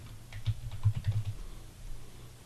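Brief burst of keystrokes on a computer keyboard, several quick muffled taps in a short cluster and then a fade to quiet room tone, close by and fairly soft.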